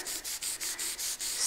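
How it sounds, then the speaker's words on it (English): Hand sanding of varnish on a boat, with about seven rhythmic back-and-forth rubbing strokes of abrasive on a hard finished surface, close and steady with no talking. "sanding"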